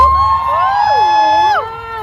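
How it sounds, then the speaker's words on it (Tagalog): A large crowd of Filipinos cheers and whoops loudly at an outdoor market and picnic in the Netherlands, many voices rising and sliding in pitch together before the shouting tapers off near the end. "Isa namang malakas na sigaw, mga Pilipino."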